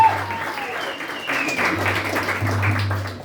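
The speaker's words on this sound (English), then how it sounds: "Everyone deserves a round of applause." Audience applause after a kirtan chanting session, a dense continuous wash of clapping that holds steady for several seconds, with a low hum running underneath.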